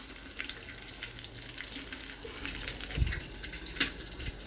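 Cumin seeds and masala fry in hot oil in a pot, giving a steady close sizzle with occasional crackles, louder stirring scrapes and clinks, and no talking.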